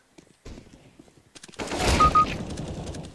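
Gunfire in CS:GO, a few scattered sharp shots followed by a louder, denser burst of close-range fire that rings out toward the end.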